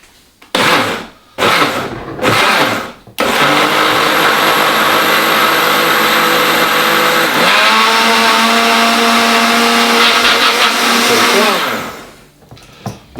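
A blender runs steadily, blitzing peaches into a purée for a Bellini cocktail, loud and close, after a few short bursts, its motor pitch shifting partway through before winding down.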